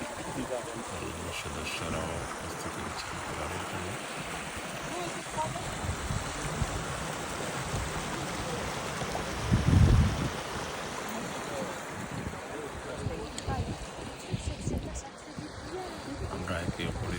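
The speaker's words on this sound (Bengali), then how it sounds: "ঝর্ণার সেই পানির শব্দ" Waterfall water rushes steadily during a trek in France, a broad continuous roar at moderate level with a brief low thump midway and faint insect-like sounds above it.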